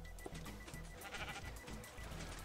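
Sheep in the Minecraft video game bleat a few times in a short run, quiet and somewhat distant over a low background hum, with no one talking.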